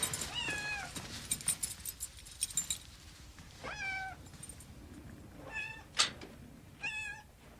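A cat meows from behind a closed door, several separate cries spaced out over a few seconds, muffled and moderately distant.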